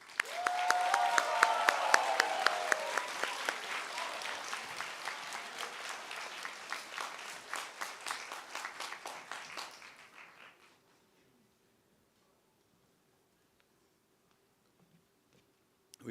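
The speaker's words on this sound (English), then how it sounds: "Please give a round of applause for Mr." An audience at a 2025 graduation ceremony applauds the class valedictorian, a dense, steady round of clapping from a large crowd that gradually thins and ends abruptly, leaving near silence with a faint hum.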